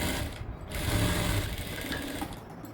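A sewing machine stitches along a folded edge of blouse fabric, with a steady close mechanical whirr and clatter that runs the whole time with no voices.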